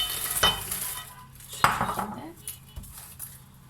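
Biscuits being stirred in a bowl for a mosaic cake, with a few sharp utensil knocks and scraping clatters against the dish, close and fairly loud, no one talking.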